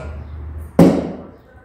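A single sharp thunk of a thrown knife striking a target, sudden and close, fading quickly after a quiet stretch.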